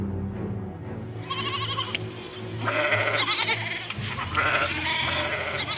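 Goats bleating on a growing farm, several overlapping calls close by, repeated in bursts over steady background noise.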